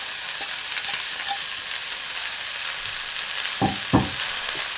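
Spring onion stir-frying with pork in a pan, a steady low sizzle running throughout, with a couple of louder stirring scrapes near the end.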